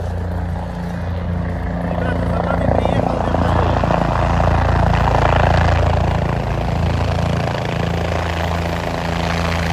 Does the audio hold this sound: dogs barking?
no